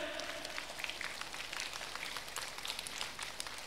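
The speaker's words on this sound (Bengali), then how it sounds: "ওইদিকে সবাই তালি দেন তো জোরে।" A crowd claps hard at a scholarship ceremony in Bangladesh, a thick, sustained patter of many hands that holds evenly from start to finish, with no speech over it.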